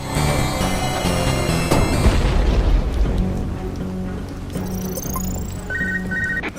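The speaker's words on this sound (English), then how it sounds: "The platform collapsed after the ballistic abuse from all the missiles." In UnMetal, a missile-battered platform gives way with a loud rumbling boom and crumbling debris that swell and then fade into a lingering low roar, with faint tonal game sounds toward the end.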